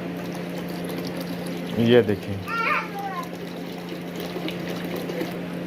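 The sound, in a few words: rose water being poured into a pot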